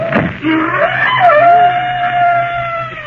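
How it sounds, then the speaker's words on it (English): A wild cat's long, wavering scream rises and holds, harsh and piercing, with a low steady hum underneath. "why did the panther scream?"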